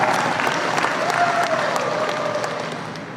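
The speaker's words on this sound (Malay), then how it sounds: "Satu tepukan yang gemuruh untuk seluruh anggota keadilan cabang Gombak." Loud, sustained applause from party members at a political branch gathering, a thick roar of many hands clapping close by, steady throughout and tapering slightly at the end.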